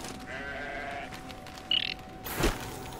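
A short sheep bleat rises from the video game Grow Home over steady ambient game music and hum, with a brief whoosh just after.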